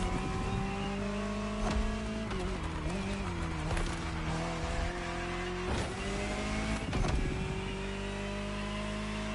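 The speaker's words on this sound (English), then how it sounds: "Jaguar CX-75 concept." The Jaguar CX-75 concept car drives in The Crew Motorfest, its engine droning and revving with rising and falling pitch and sharp gear-shift breaks, while a voice talks over the engine throughout.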